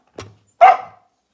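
Two short dog barks close by, the second louder and sharper than the first, with silence around them in a house.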